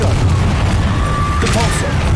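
Confringo explosive spell in Hogwarts Legacy, a loud booming blast with heavy low rumble and a sharper burst partway through, set among ongoing combat noise.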